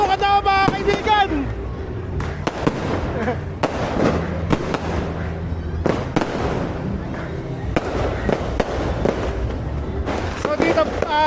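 New Year fireworks pop and crackle in repeated sharp bursts, some near and loud, with whistling launches and voices in the background.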